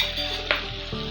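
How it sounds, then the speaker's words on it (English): Chopped onion fries in hot salted oil in a pan for Nigerian yam porridge, giving a steady, close sizzle with a brief stirring clatter partway through. "I'll let this fry for 1 minute or until it's translucent"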